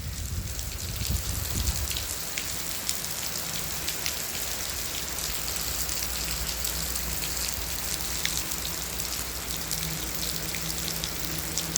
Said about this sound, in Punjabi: ਕਾਫੀ ਮੀਂਹ ਪੈ ਰਿਹਾ